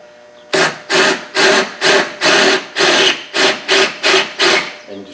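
Bursts of a power drill boring out a window regulator rivet in a 1996 Mercury Grand Marquis door, about ten short, evenly spaced grinding pulses, close and loud, with no talking.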